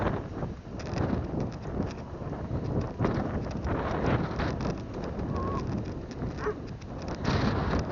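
Steady outdoor wind buffeting the microphone, a continuous rushing roar throughout, with faint bird calls in the background.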